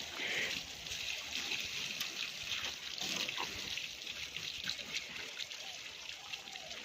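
Water runs steadily from a pipe during a baby's bath in a hospital setting, a continuous close trickling and splashing with faint voices in the background.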